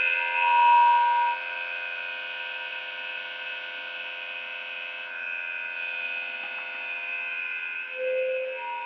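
A pump fills tractor tires with washer fluid, giving a steady electric hum with sustained tonal drone throughout, rising slightly at moments while otherwise holding an even level.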